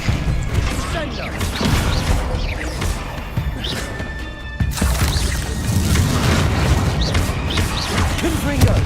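Descendo spells slamming enemies down during a Hogwarts Legacy video game fight, loud repeated crashing impacts and booms over a busy battle din, with voices shouting through it.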